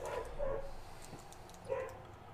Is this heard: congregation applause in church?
no